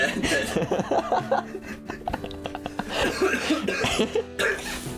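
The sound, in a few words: coughing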